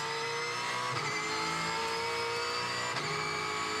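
Tintop touring race cars at the Townsville circuit roar past on the racetrack, a loud continuous engine drone with rising revs and a couple of passing surges, no talk heard.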